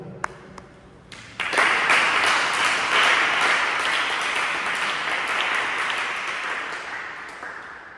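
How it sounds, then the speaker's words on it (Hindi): Seated children clap for classmates standing at a Gita shloka recitation contest. Applause bursts in loudly after a few faint claps and holds as a dense, even patter before easing slightly. "बाकी लोग जो बैठे हैं वो उनके लिए ताली बजाओ।"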